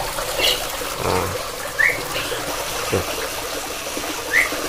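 An artificial river stream flows through an aviary, a steady close trickle of running water with a few brief bird chirps rising above it.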